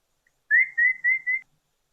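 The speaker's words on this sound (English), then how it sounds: "Are those blue waxbills calling?" A blue waxbill at a waterhole gives a short series of four clear, thin whistled notes in quick succession, close and isolated against silence.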